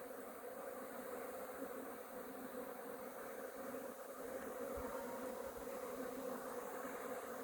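Honey bees humming steadily at a hive in spring, a dense continuous drone of many wings close by with no talk.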